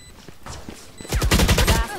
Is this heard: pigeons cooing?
no